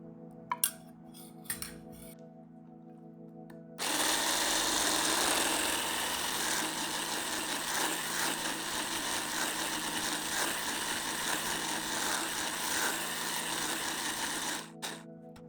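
An electric mixer whirs steadily as it beats butter cake batter, starting after a few faint clicks and holding a constant motor buzz with beaters scraping the bowl for about ten seconds before cutting off.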